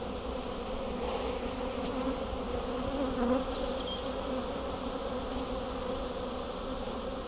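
Honey bees swarm in a steady, dense buzz around an open hive during an inspection, a continuous drone holding close and even throughout.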